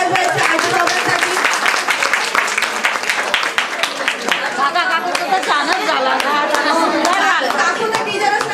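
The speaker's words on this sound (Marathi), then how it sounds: "सगळ्यांनी जोरात टाळ्या वाजवायच्या आजीबाबांसाठी" A crowd at a baby shower claps loudly and steadily throughout, a dense patter of many hands with chatter and voices mixed in.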